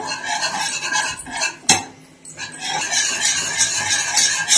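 Cheese stirred into a kunafa mixture in a pan makes continuous scraping and rubbing sounds of a utensil against the pan, with a sharp knock partway through and a short lull before the stirring resumes.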